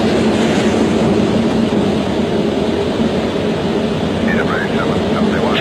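A Concorde jet airliner thunders on takeoff with a loud, continuous broadband roar that holds steady throughout, heard from inside with occasional voices speaking over it.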